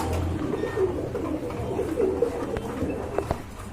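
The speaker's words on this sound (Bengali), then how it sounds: "এখানে কিন্তু পছন্দের এক জোড়া কবুতর আছে দেখতে পাচ্ছেন" A pair of pigeons, a Bagha breed, coo in soft, repeated low murmurs at close range. Faint background noise runs beneath, with no talk.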